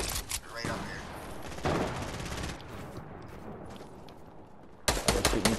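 Bursts of rapid gunfire rattle through a Fortnite match, dense volleys that ease off in the middle and then come back sharply at the end.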